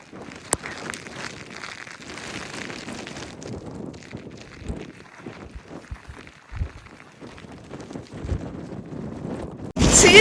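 Wind gusts across a cloud-covered hilltop in Chikkamangaluru during wind and rain, rumbling and buffeting the microphone in uneven surges before a sudden loud blast at the end.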